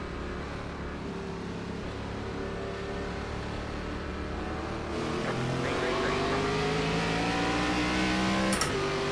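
Simulated race cars rev and accelerate together at the start of an ARCA Menards Series race at Charlotte in iRacing. The engines drone steadily, then grow louder as the field picks up speed, and a voice talks faintly underneath.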